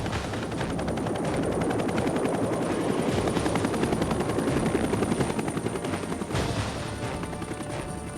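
A Huey helicopter's rotor thumps loudly and continuously overhead in the Vietnam War, a rapid chopping beat with a steady engine whine, with occasional bursts like distant gunfire.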